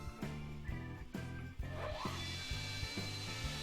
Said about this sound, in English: changing back from the polishing belt, the 400 grit, back to the 80 grit sandpaper, and then I'm going to start grinding the bevel on the other side of the knife blade